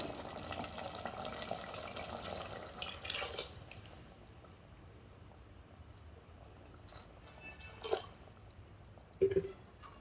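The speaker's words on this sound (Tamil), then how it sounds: "இப்போ நம்ம வந்து தண்ணி சேர்த்துக்கலாம்" Water being poured into a pan of tomato rice masala, a soft trickling and dripping with a few brief louder splashes near the end, fairly quiet and heard alone.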